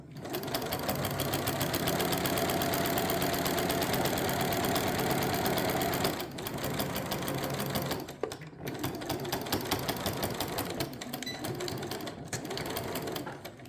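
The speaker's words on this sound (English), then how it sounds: "So I sewed the length of it." A Janome sewing machine stitching a 1/4 inch quilt seam runs with a fast, steady mechanical whir and tick, pausing briefly twice before carrying on close and clear.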